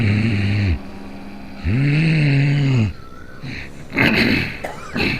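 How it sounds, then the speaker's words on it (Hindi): Ujjayi pranayama breathing in a yoga session, drawn slowly through the throat with a snoring rasp: two long loud close breaths, followed by rougher breathy, noisy sounds. "उज्जयी करेंगे, खर्राटे की आवाज़ निकालेंगे कंठ से"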